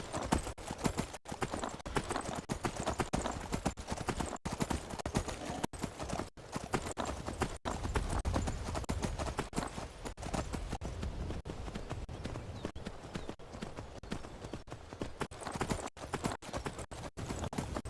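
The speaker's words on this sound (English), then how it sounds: "Swimming horses." Horses swimming in the video game Skyrim make a steady run of loud hoof clip-clops with a continuous rushing game background and no talking.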